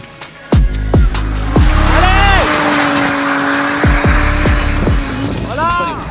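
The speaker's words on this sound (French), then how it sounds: "Jérémy Moll, l'Audi S4, la seule Audi qui a une drift" An Audi S4 drift car at a competition event roars under hard throttle with repeated gear-shift and rev changes, its tires squealing in long screeches close by, while a commentator talks over it.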